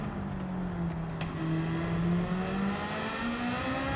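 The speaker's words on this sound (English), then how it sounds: "It's quite a smooth engine." Smooth car engine in Gran Turismo 7, a steady droning whine that slowly rises in pitch as the car accelerates through the gears, loud and continuous with no voices.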